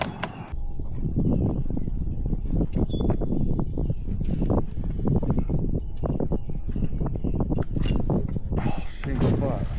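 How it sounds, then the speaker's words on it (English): Birds chirp outdoors near a bog in short scattered calls, mixed with clattering handling noises and people talking over them. "Birds."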